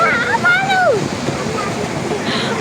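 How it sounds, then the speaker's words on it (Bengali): Waterfall-style cascade on Manali's Mall Road, a steady broadband wash of falling water heard close, with a voice talking over it at the start. "কি সুন্দর দেখো একটা ফলস এরকম ঝর্নার ব্যাপার করেছে খুব ভাল লাগছে আর খুব আওয়া মানে আওয়াজ আসছে"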